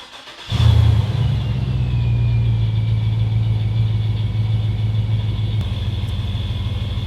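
A car engine starts up and settles into a steady, loud idle, a continuous low rumble holding evenly throughout, idling about 75 RPM high after throttle body tuning.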